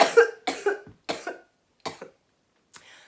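A run of harsh, raspy coughs after dabbing cannabis concentrate, five or six bursts in an uneven rhythm that fade toward a softer final cough, close up and with no talking.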